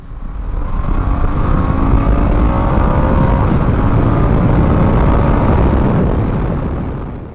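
A Harley-Davidson Sportster S with its 60-degree V-twin, variable valve timing and overhead cams revs hard and loud, the roar rising and holding steady for several seconds before easing off slightly at the end.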